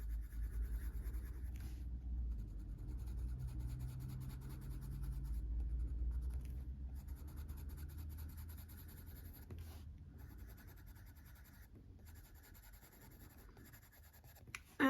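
Steady, soft scratching of a coloured pencil pressed hard on paper continues throughout, quiet and close, with brief pauses between strokes and no talking.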